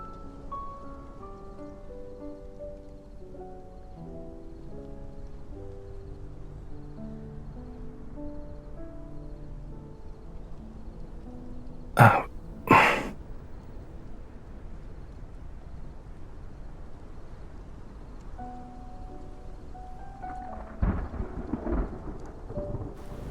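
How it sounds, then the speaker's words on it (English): Steady rain patters throughout in a video game while a sharp thunder crack bursts out midway, followed later by a lower rumble, with soft music in the background. "It's raining!"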